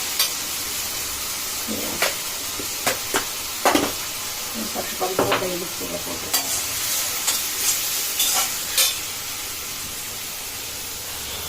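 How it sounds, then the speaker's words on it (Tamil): Onions sizzle and hiss in a hot pan, with scattered crackles and stirring scrapes throughout; a voice speaks briefly in Tamil. "வெங்காயம் நல்லா வதங்கட்டும்"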